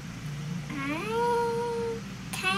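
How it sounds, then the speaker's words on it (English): A cat gives a single drawn-out meow with rising then falling pitch, fairly clear and close, followed by a short sharp sound at the end. "And there's a cat."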